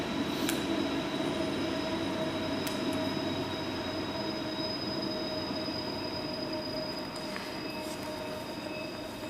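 A train rumbling past a city council meeting in Mount Shasta, with a steady roar and high-pitched wheel squeal, continuous and fairly loud throughout.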